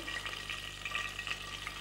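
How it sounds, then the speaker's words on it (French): Hot oil sizzles in a soup pot for a mussels and sardines dish, a continuous close crackling hiss with small irregular pops and no talk. "Oui, elle est bien chaude, j'entends grésiller."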